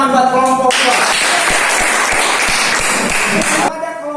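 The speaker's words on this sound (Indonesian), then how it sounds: "Tepuk tangan buat kelompok 2." A classroom group claps for the second presenting team, a dense burst of applause lasting about three seconds, close and loud, with voices just before and after.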